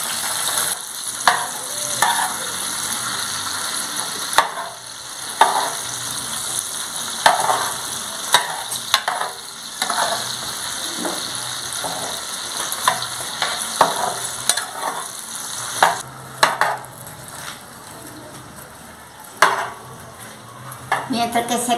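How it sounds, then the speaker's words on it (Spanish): Shrimp fry and sizzle in a pan while being stirred for a pumpkin-seed pipián, with steady close sizzling broken by repeated scraping and clinks of a utensil against the pan. "Yo voy a estar moviendo los camarones para que no se vayan a quemar."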